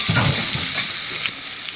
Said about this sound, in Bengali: আর এইখানে আমি মিডিয়াম সাইজ 2টো আলু ভাজা করতে দিয়েছি।